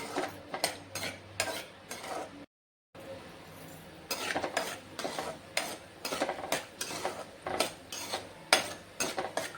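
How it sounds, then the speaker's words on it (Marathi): Peanuts fry in hot oil in a pan, heard as regular, rhythmic scraping and stirring strokes over a soft sizzle, with a short silent break early on. No speech. "हे आपल्याला चांगले खरपूस असे तळून घ्यायचे आहे"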